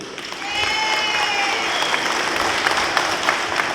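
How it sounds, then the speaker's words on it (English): An outdoor audience at a smoked meat cooking festival applauds dignitaries on a stage, a steady wash of clapping that rises after a moment and holds, with faint crowd murmur underneath. "Ladies and gentlemen, how about another big round of applause?"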